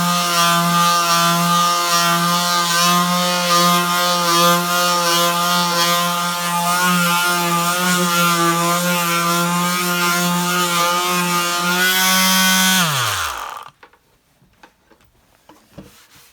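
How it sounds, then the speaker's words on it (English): A power sander with 120-grit paper drones steadily with a buzzing, harmonic-rich whine, grinding against a wooden coffee table for about thirteen seconds before spinning down and stopping. "I think this is dry enough to start sanding"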